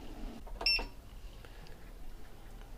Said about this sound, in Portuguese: Vocês vão ouvir o bip